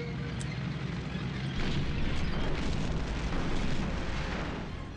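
Artillery fire in the World War II strategy game Panzer General II, a dense, steady rumble of blasts and booms with no talk.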